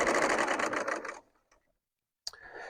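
A serger sewing machine stitching strips of fabric, a fast, close, rattling whir for about a second that stops abruptly, then a short mechanical clack after a pause.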